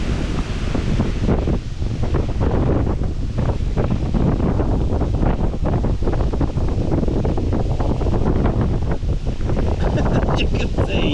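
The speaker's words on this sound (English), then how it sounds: "You can see it's a bit windy." Strong, continuous wind buffeting the microphone on the bank of the River Thames during a club fishing match, a loud roaring rumble with gusty rustle and no talking.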